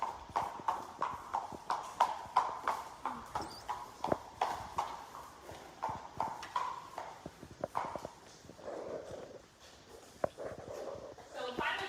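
An 8-year-old thoroughbred gelding walks on a hard surface toward cross ties, its hooves clip-clopping in a steady, even rhythm close by while a person talks over the footfalls.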